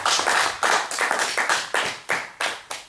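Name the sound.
congregation clapping to acclaim the word of God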